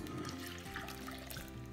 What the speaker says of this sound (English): I'm going to pour 2 cups of milk